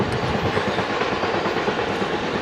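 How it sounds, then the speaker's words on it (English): A CSX manifest freight train passes close by along the Lake Erie coast in northwestern Pennsylvania, a loud continuous rumble with rapid clickety-clack of wheels over rail joints, no voices. "we then get a CSX manifest that snuck up on us"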